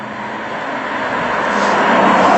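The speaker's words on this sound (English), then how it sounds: "The first thing you hear is all this engine noise. It sounds like a V8." Engine noise from a BMW i8 in sport mode, piped through the cabin speakers and sounding like a V8, as a loud, steady roar that swells gradually while the car drives.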